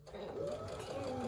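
A sewing machine runs steadily for a moment during a home sew-along, its motor hum carrying beneath a person talking nearby.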